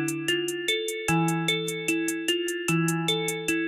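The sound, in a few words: hi-hat pattern with random velocities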